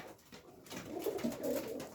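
A pair of racer pigeons coo softly and close by, a short low burbling call swelling in the second half.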